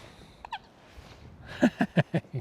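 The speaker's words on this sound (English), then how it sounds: "they're the ducks." Ducks on a cold pond give a few soft calls, then a quick run of five loud, close quacks in steady rhythm, with little else around them.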